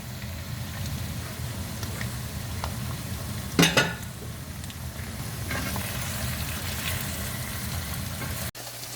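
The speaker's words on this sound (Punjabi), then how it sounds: "ਮਸਾਲਾ ਚੰਗਾ ਜਿਹਾ ਭੁੰਨ ਗਿਆ ਤੇ ਇਹਦੇ ਵਿੱਚ ਚੰਗੇ ਤਰੀਕੇ ਨਾਲ ਰਚ ਗਿਆ" Masala spices for chicken kadahi fry in a pan with a steady, close sizzle and occasional stirring scrapes, one sharp clatter midway and a brief dropout near the end.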